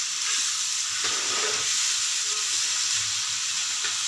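Tomato paste frying for a pabda fish curry, a dense steady sizzle and hiss with faint stirring bumps underneath, close and even throughout, no talk.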